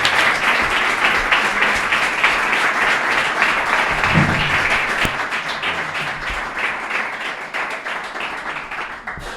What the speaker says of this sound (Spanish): Un aplauso para Yoli